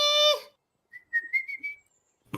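A person gives a short series of sharp, rising whistles to call a crossbred dog, nearby and clear after a brief burst of another sound.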